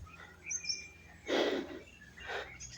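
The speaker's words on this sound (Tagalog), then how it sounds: "May naririnig kami mga ibon dito sa baba guys." In a forest, faint bird calls come through as a few short chirps and two brighter bursts of calling, with quiet background between them.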